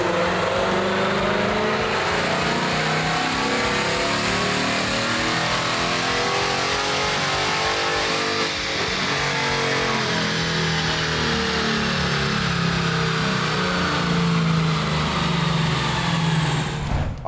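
A Ford Mustang GT engine on a dyno winds up through a long, loud pull, with the pitch rising steadily for many seconds before cutting off sharply at the end.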